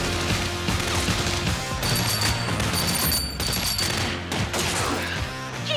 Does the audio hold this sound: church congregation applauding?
no